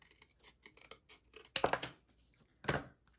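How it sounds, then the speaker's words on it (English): Scissors cut through chipboard in a quiet room, with faint small snips and then two louder, crisp crunching cuts. "I'm going to cut this chipboard."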